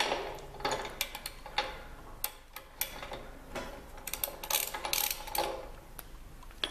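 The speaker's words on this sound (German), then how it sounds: "müsst ihr eine spezielle Zündkerzennuss nehmen. Ja, wir schrauben das Ganze los." A ratchet with a spark plug socket loosening the spark plug on a petrol lawnmower, giving uneven bursts of quick metallic clicks close by with no talking.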